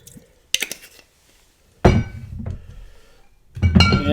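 Half an ounce of Malibu rum is poured into a mixing vessel for a rum cocktail. Sharp glass and metal clinks and thunks from the bottle and bar tools surround a brief liquid pour, all close and fairly loud.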